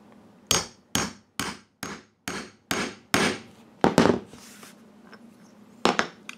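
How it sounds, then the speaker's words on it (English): A hammer repeatedly strikes a grommet setter to install a grommet from a Harbor Freight grommet kit, item 63237, giving about eight sharp, close metallic blows in a steady rhythm, then a pause and two more hits. "And hammer it down."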